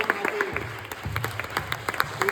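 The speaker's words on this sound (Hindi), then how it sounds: "जोरदार तालियां" Applause rings out at a religious sermon, a brief burst of clapping from a gathered congregation, with a voice calling out over it.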